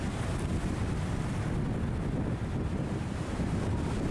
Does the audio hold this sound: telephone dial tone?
no